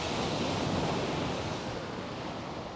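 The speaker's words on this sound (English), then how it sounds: "This is Chesil Beach." Steady broadband surf washing over the shingle shore of Chesil Beach in Dorset, a continuous close roar of waves with a wind-like hiss and no voices.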